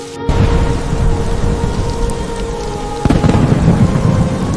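Heavy rain pours down steadily and loudly, drumming on surfaces with a dense low rumble, no voices present.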